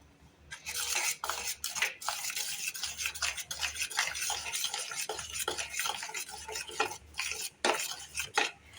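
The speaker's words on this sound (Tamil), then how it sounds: "இந்த பச்சை வாடை போகிற வரல நம்ம கலக்கி விட்டுட்டு இருக்கலாம்" Badam halwa being stirred in a pan, a spoon scraping and clinking against the metal in a busy irregular rhythm, close and fairly soft, with no talking.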